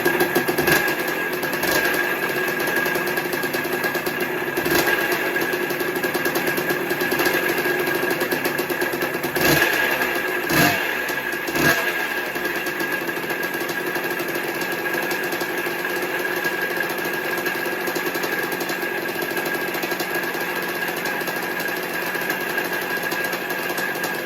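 A 1979 Honda CR125 Elsinore two-stroke motorcycle engine running steadily at a buzzing idle, loud and close, with a few sharp throttle blips partway through and no talk.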